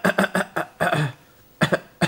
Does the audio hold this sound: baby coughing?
yes